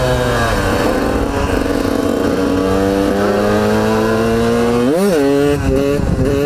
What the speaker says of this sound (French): quand vous entendez que la moto garde un filet de gaz